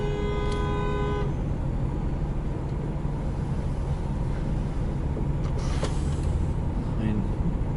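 Traffic roars steadily at a busy road junction with buses and cars, and a short horn toot sounds near the start over the constant engine rumble.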